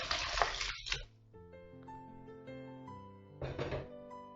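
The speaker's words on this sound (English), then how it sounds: "So I'm going to strain this." Cooked instant noodles are tipped into a strainer, with bursts of water gushing and splashing at the start and again near the end and a hollow, ringing drain tone in between, close and fairly loud with no talking.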